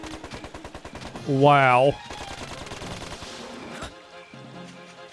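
A newly acquired gun firing in Dark Cloud 2, rapid rhythmic bursts of gunfire with a warbling synthetic zap in the middle and a brief spoken reaction, ending on quieter game tones.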